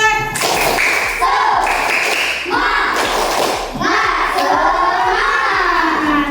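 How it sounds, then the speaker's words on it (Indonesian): Young fourth-grade pupils in a classroom clap in a quick, steady rhythm, the sharp hand slaps repeating evenly throughout while children's voices chant and call loudly over the beat. "Tepuk semangat"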